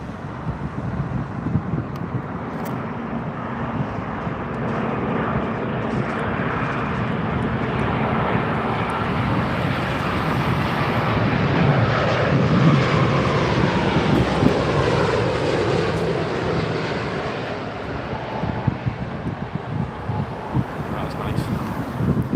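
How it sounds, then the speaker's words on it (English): An Air India Boeing 787 Dreamliner landing on runway 27R at London Heathrow, a steady broad jet roar that swells slightly midway, heard with wind noise and no voices. "here's the Air India 787 Dreamliner"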